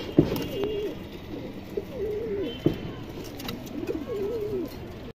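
Budapest high flyer pigeons coo in repeated soft, rolling calls with brief pauses between phrases, close by, alongside a few faint clicks and light background noise.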